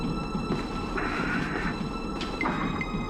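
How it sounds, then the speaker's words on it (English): A moving train in a video game, a steady rumbling rail ride with rising squeal-like tones partway through, continuous and fairly close throughout. "Won't open while the train is moving?"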